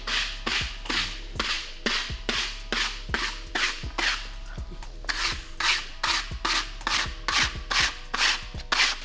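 A taping knife scrapes crack filler flat across a shop floor in rapid, regular strokes, about fifteen rasping swipes, each with a hard start and a gritty drag, close and loud with no talk.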